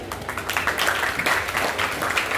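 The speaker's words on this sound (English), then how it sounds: "Let's give a huge clap for Tabassum." Scattered audience clapping rises for a student speaker at a school elocution competition, uneven bursts of hands in a hall, fairly loud and close, with some murmuring underneath.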